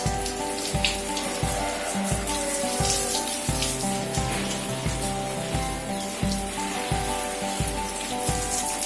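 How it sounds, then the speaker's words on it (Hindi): Water sprays and splashes while trees are washed outdoors, a steady rushing patter with a regular rhythmic pulse underneath, no voices. "पेड़ों की धुलाई चल रही है भाई आज।"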